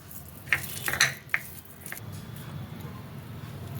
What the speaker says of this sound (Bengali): নুন দিয়ে এটাকে আমি ভালো করে মাখিয়ে নেব